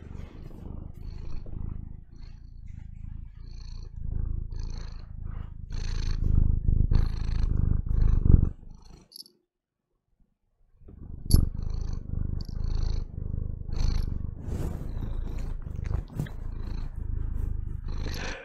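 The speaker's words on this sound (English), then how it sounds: "Had to have a Leela purring break" A pet cat purrs loudly and close up in a continuous rumbling rhythm of rising and falling breaths, broken by a brief silent pause before resuming.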